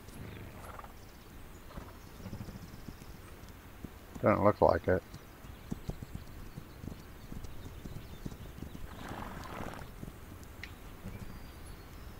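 In the video game This Land Is My Land, horse hooves clip-clop and a horse gives one loud neigh at close range, with someone talking over the ambient game sounds.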